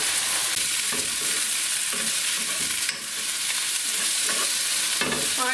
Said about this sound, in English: we've got a good old sizzle going on there now